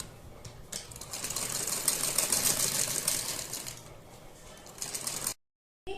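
A sewing machine runs for about five seconds as fabric is stitched onto the neckline of a kurti, a steady close whirring that swells slightly midway, then stops, followed by a brief quiet gap.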